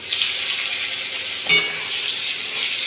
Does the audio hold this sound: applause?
no